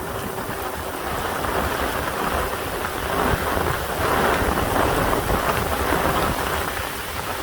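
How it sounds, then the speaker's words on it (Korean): A sudden heavy rain shower pours down with strong wind in a dense, continuous roar, steady and close, swelling slightly louder midway with wind-like rushing. "갑자기 소나기가 엄청나게 붙습니다"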